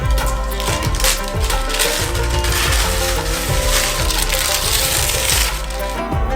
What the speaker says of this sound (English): Tear off the parchment.